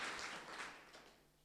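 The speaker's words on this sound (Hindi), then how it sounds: "नितेश के लिए एक बार ताली बजानी चाहिए" An audience at a school gathering gives a short burst of clapping, loud at the start and quickly tapering off within about a second and a half, with no voices over it.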